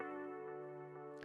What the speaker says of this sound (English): Next thing I added were some vibey chords.